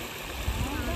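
Water pours over rock at a secluded, empty waterfall, giving a steady broadband rush that swells slightly midway, with a voice faintly present beneath the flow.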